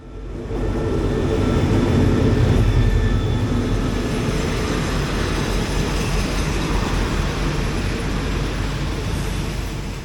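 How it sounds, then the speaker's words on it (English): A southbound train on Thailand's Jungle Express night line pulls into a station. It makes a loud, sustained close rumble of wheels and engine that swells quickly and holds steady throughout, with no voices. "as the southbound train arrives"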